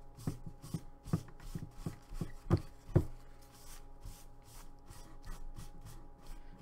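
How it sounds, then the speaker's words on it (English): A dry towel is rubbed over a painted skull model to wipe off paint, giving soft, close scrubbing strokes in a loose rhythm, some slightly louder, with no talking. "And using my dry towel again, wiping off these areas."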